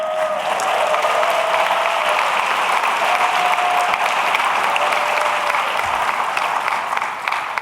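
Steady, dense applause from a large crowd at a Dr. Martin Luther King, Jr. commemorative ceremony, loud and continuous throughout without any pause.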